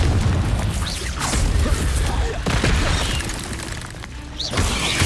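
A Confringo spell explosion in Hogwarts Legacy, a loud, dense rumbling boom that fills the whole stretch, with sharper bursts layered over a heavy low roar.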